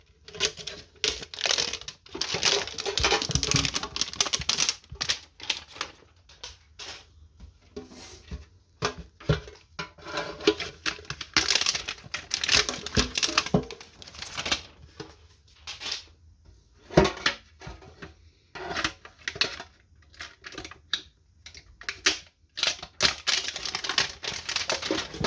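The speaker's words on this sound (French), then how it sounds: "Je vais ouvrir ça avec le petit couteau magique." A small knife slices and pries at the plastic blister packaging of a Pokémon tin, producing rapid close crackling, ticking and crinkling bursts with short pauses throughout.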